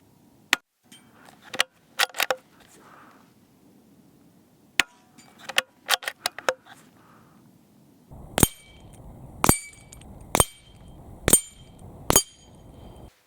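CZ 457 .22 LR rifle bolt being cycled with spent cases ejecting, a series of sharp close metallic clicks and clacks, some in quick pairs, with several louder crisp snaps near the end.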